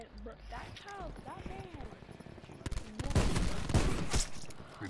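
Gunfire in Call of Duty: Black Ops 4 multiplayer: rapid bursts of shots that grow dense and loud in the second half, with someone talking over the earlier part.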